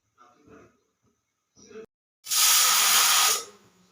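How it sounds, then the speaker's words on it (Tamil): A pressure cooker cooking small dal gives one loud, steady steam whistle hissing for about a second, after short bursts of quieter sound and brief pauses. "விசில் வந்துச்சுங்க"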